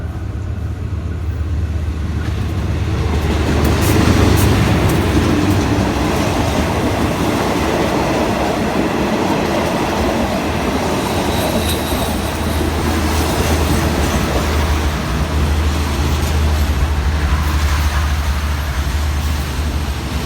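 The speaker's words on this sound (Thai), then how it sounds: "ขบวนรถเร็วที่ 172 นะครับ ต้นทางสุไหงโกลก ปลายทางกรุงเทพนะครับกำลังจะเข้าจอดที่ สถานีรถไฟบ้านโป่งนะครับ" Thai rapid passenger train 172, Sungai Kolok to Bangkok, rumbling loudly into Ban Pong railway station, a continuous heavy roll of wheels and carriages with some metallic squeal, close and sustained.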